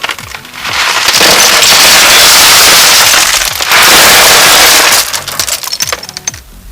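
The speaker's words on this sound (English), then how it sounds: "So all these gravels will go above the bigger stones, cover it." Gravel being poured into the filter tank of a fish pond filtration system, landing on larger stones: a loud, continuous gritty rattle lasting several seconds with a brief dip midway, tapering into scattered settling clicks.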